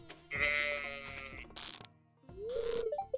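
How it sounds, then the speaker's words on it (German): Goat bleating in the farming game Stardew Valley, two wavering bleats with a short gap between them, loud and close over quiet game sounds. "Wo ist dieses Ziegenvieh hin?"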